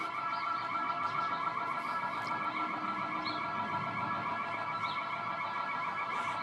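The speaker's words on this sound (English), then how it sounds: "This alarm has been going for 3 minutes now." A building security alarm rings steadily on a quiet Sunday morning, a continuous harsh electronic tone heard from some distance and holding level throughout without a break.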